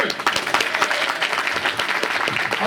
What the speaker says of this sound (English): Folks, big round of applause, please, for Will and Andrew.